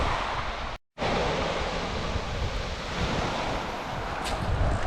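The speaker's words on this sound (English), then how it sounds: "As the big waves come in, they capture the water from the other waves going out." Ocean waves roll in on a wild Scottish coast, a steady, loud, broadband surf roar with wind noise throughout, briefly cutting out near the start, with no voices.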